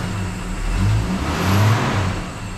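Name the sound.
1978 Mercury Z-7 engine revving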